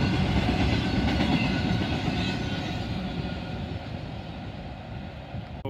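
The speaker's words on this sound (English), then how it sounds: "Even though it's not going full speed, this is probably a high priority train right here." A freight train hauling UPS containers rolls past at moderate speed, a steady close rumble of wagons with faint clickety-clack, gradually easing in loudness over several seconds.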